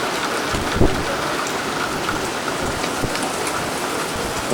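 Steady, heavy rain pours down as Hurricane Frances moves in, a dense close wash of drops with a couple of soft low thumps and no voices.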